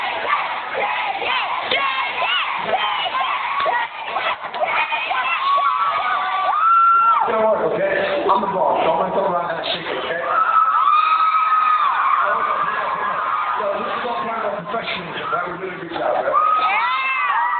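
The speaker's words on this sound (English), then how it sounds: "The more you guys cheer, the more I'll shake." A party crowd cheers, whoops and yells loudly and continuously, with excited shouts rising and falling in dense overlapping voices throughout.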